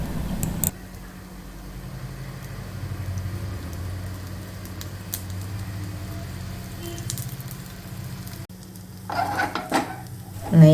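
Pan of banana fritters frying in ghee while being turned and stirred, soft sizzle under a low hum with scattered utensil scrapes, then louder clattering of a spatula against the pan near the end.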